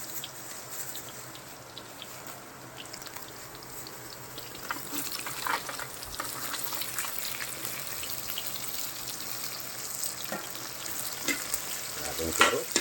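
Carrots stir-fry in a hot pan with garlic, cooking for pancit canton; a steady close sizzle with occasional stirring scrapes, growing busier partway through.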